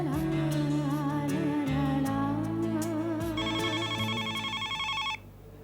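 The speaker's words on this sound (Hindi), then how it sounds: "मैं देखता हूँ किसका फोन है।" A phone ringtone plays continuously as a bright melodic tune over a steady tone, with a second pulsing pattern joining near the end before it stops.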